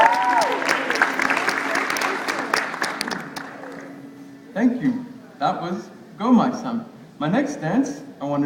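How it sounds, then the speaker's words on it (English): Mission audience in Toronto gives a round of applause, dense clapping fading out over several seconds, followed by a person speaking alone. "And give yourselves a round of applause."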